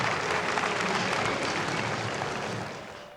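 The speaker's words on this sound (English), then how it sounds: "Somewhat muted applause inside the arena here." Subdued applause fills a tennis arena at the Miami Open after a match ends, a steady wash of distant clapping that fades slightly toward the end.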